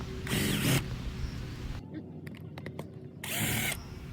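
Screws are loosened to remove a cover, with two loud whirring bursts from a power driver, each under a second long, separated by quieter clicks and ratcheting sounds.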